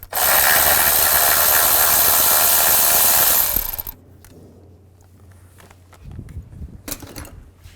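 A 10mm socket wrench loosens the ignition coil bolt on a Nissan Xterra engine after a loud burst of broadband noise, with faint clicks and metallic ticks close by.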